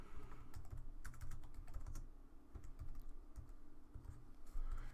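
Keys clatter on a computer keyboard in quick, uneven bursts of close, crisp clicks, with short gaps between runs of typing and a steady background hum.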